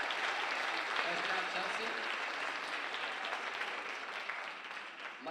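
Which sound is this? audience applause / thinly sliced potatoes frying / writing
audience applause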